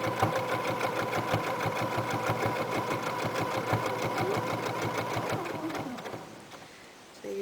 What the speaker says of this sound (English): so now you just sew onto this line